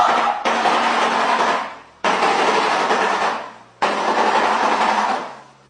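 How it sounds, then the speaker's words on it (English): A shoebill produces three loud, dry, rattling bursts, each starting abruptly and fading over about a second and a half, close with no other sounds. "Showbill."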